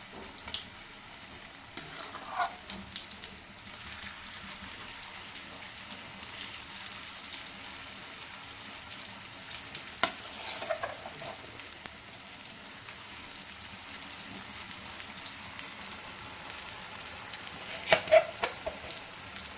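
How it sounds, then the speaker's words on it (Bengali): Fish roe fritters frying in hot oil give a soft, steady sizzle and bubbling, faint and close, with occasional small crackles and pops. "তেলটা গরম হয়ে গেছে, এরপর এটার মধ্যে ছেড়ে দিচ্ছি"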